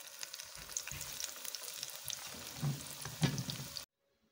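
Spinach pakoras bubble and crackle in hot oil, a soft steady sizzle with a few louder pops and stirring clinks before it cuts off abruptly.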